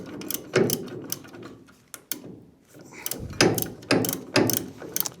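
A ratchet clicks in short bursts with pauses as a cross bolt with a nylock nut is tightened back in on an MEV Exocet car, producing close, sharp mechanical ticking.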